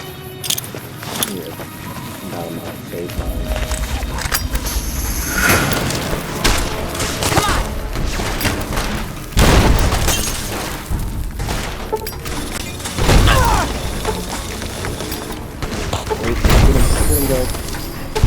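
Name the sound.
grenade explosions in video game Fallout New Vegas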